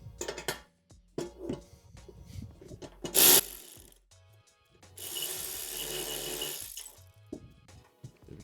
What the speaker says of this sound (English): We can now put your spanner on the underside. Do that up nice and tight.